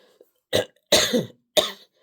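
Three close coughs in quick succession, short and dry, separated by brief silences.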